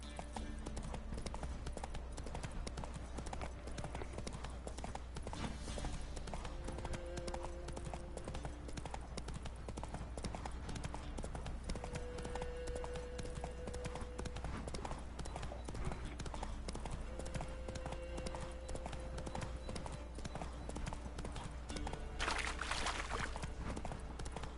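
Hooves of Geralt's horse Roach clip-clop steadily in The Witcher 3: Wild Hunt, a continuous walking rhythm at moderate distance under a low ambient bed and occasional faint game sounds.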